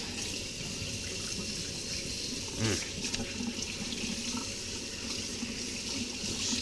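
Water runs steadily from a kitchen sink faucet while a lemon tart is being made, a continuous close splashing stream with a brief louder gush midway.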